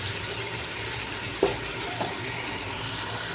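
Okra curry with yogurt simmers in a pan with a soft, steady sizzle and bubbling, and two brief clinks of a spoon stirring.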